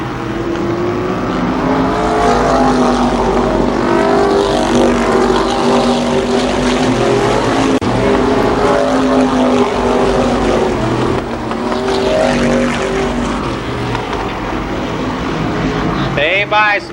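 IMCA modified race cars circle Columbus Motor Speedway with a loud, continuous engine drone as the pack runs together, while an announcer talks over the racing throughout.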